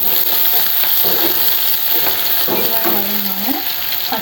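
Onion fries in hot oil in a pan, a close, steady sizzle with light crackling and a few metallic stirring clinks near the end.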